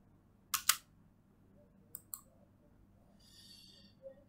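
Computer mouse clicks while working in Tally accounting software, a quick double click followed by two lighter clicks, close and crisp in an otherwise quiet room.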